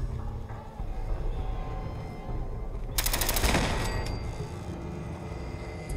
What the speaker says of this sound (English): That was probably a very dangerous turret. Either incendiary or explosive rounds.